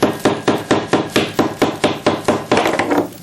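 A hammer repeatedly strikes a frozen banana in a chemistry demonstration, about a dozen sharp, evenly spaced whacks in a steady loud rhythm, with no talking.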